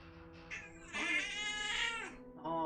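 A cat in the video game Evil Genius 2 lets out a drawn-out, whiny meow while being petted, with a couple of shorter meows around it, close and clear, with no talking.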